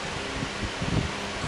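A Zeb Bion Clima electric fan runs on its lowest speed, giving a steady, close, airy whoosh with a slight low rumble and no voices.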